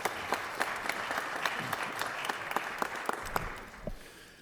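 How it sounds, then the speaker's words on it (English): In the Georgia Senate chamber, a modest crowd applauds for several seconds, a soft steady patter of many hands with a few sharper, closer claps standing out, then tapering off. "Let's give them a great round of applause"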